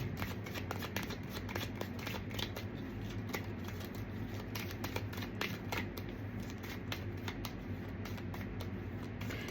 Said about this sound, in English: I just want to pull one card.